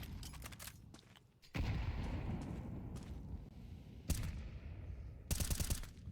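Desert Eagle pistol fire during a Counter-Strike esports match, with sharp shots and bursts of gunfire from several directions over a continuous roar of game and crowd noise.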